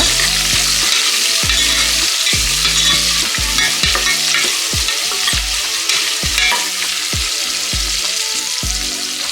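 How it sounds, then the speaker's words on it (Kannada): Long-sliced onion and other vegetables frying in oil in a pan for mushroom biryani, a loud continuous sizzle with repeated scraping strokes of a spatula stirring at a steady rhythm, close up. "ಇದನ್ನೆಲ್ಲ ಇದೇ ರೀತಿ ಸಣ್ಣೂರಿನಲ್ಲೇ ಫ್ರೈ ಮಾಡ್ಕೊಳ್ಳೋಣ."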